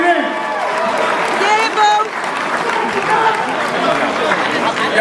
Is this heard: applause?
yes